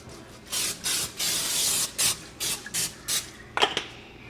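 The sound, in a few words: cooking spray sprayed onto a cookie sheet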